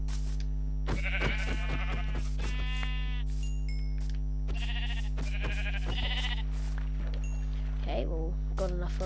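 Sheep in Minecraft bleat several times in a row over a steady game background hum, close and clear.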